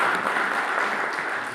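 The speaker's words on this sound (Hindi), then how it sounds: "उनका तालियों से स्वागत किया जाए" Brief applause welcoming Tilakraj Dhiman as Haryana state vice president at a Dhiman community gathering, a short steady patter of many hands clapping at moderate loudness.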